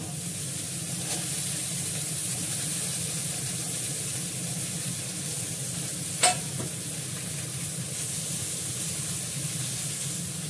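Vegetables frying in a pan with a few green chillies just added, a steady hiss of sizzling oil running throughout, with one sharp clatter of stirring partway through.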